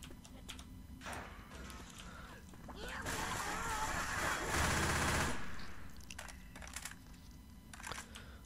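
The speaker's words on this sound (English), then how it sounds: "Uzi." An Uzi fires in Left 4 Dead 2 co-op play, with a sustained rapid burst swelling in the middle and fading out among splashy, watery game noise.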